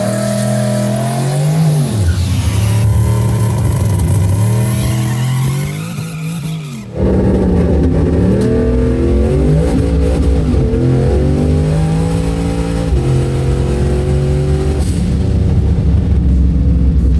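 A Holden Monaro drag car set up for no-prep racing launches at about 3,600 rpm on roughly 8 psi of boost, its engine roaring and revving hard through first gear, with a short dip before the loud howl climbs again.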